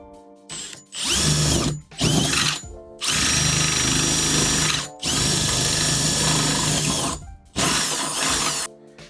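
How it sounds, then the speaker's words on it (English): Power drill boring a small hole through a truck camper cap, several loud whining bursts close by, separated by short pauses. "We'll just drill a little hole in it."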